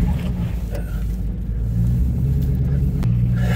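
A 1984 Chevrolet K5 Blazer that sat unused for over ten years runs with a heavy, steady low engine rumble, close and loud, with no talk over it.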